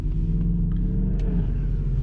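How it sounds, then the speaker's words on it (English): A Mercedes SLK cruising along with a steady, loud low engine rumble and road drone throughout, no voices present. "Right now I'm driving the SLK around, obviously."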